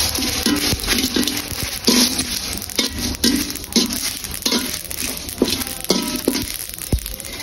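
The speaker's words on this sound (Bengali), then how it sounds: "মশলাগুলো একটু হালকা ভেজে নেব।" Bay leaves and whole spices lightly frying for achari ilish with amra, stirred in a pan with repeated scraping and clinking of the spoon against metal over a steady low sizzle, close and fairly loud.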